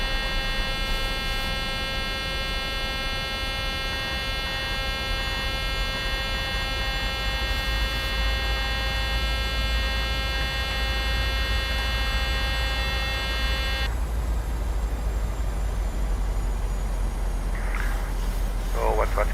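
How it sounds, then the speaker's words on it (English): Landing gear warning horn in a PMDG 737-600 in Microsoft Flight Simulator: a steady, loud tonal horn sounding continuously over cockpit engine rumble, then cutting off abruptly, with brief faint talk near the end. "Now the gear warning, so let's drop the gear."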